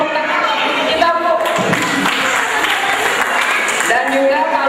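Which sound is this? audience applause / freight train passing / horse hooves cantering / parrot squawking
audience applause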